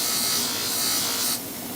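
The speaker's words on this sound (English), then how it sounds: "I use a buffer and a hard cloth wheel and a white polishing compound" A knife edge being stropped on a hard cloth buffer wheel loaded with white polishing compound, a loud steady whirring hum with a brushing hiss that drops off abruptly near the end.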